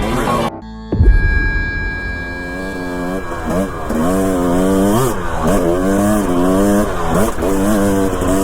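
A dirt bike engine runs steadily on Idaho mountain single track, loud and close, its pitch rising and falling with throttle after a brief quiet start, with no talking.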